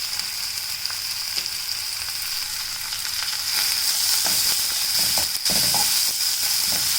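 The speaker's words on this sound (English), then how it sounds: "I'm just going to give it a quick stir" Chopped onion with garlic and chilli fries in a hot pan for a methi, potato and pea curry, giving a steady close sizzle that grows louder midway, with scraping clicks from a spoon as it is stirred.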